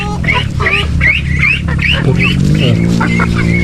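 A voice imitates a duck with a rapid series of nasal, rising quacks, a dozen or so in quick succession, loud and close.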